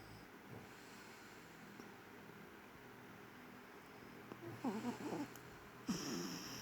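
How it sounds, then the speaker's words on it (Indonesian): A sleeping small child snores softly in a quiet room, with faint breathing at first and then a few short, raspy snorts near the end. "Nah itu suara ngorok dedek."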